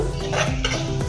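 Coconut powder stirred into a dish in a pan with a spoon, short scraping and clinking of the utensil against the pan over a faint background, no voices.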